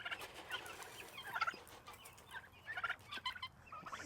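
Several turkeys gobble and chatter in a barnyard alongside guinea fowl at feeding time, with repeated bursts of overlapping gobbles rising and falling at moderate distance and no talking.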